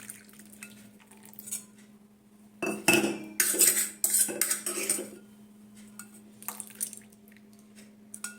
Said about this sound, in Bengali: এই যে দুধটা করে রেখেছি না আমুলের দুধটা এটা দিয়ে দিই